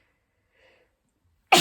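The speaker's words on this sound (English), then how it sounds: "Excuse me, I'm going to sneeze for some reason," A single sharp human sneeze bursts out at the very end after near silence, loud and close.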